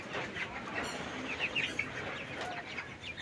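Twenty-four-day-old chickens clucking and chirping softly in a poultry shed, several birds calling intermittently over a low background hum.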